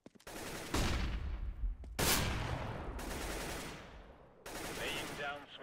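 Several loud, sharp blasts from flashbang grenades in a tactical shooter video game, each a sudden broadband burst decaying into a rumbling tail, spaced about a second apart.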